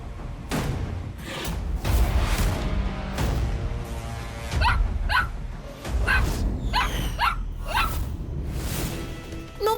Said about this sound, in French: Mon petit Tinku, mais pourquoi aboie-t-il?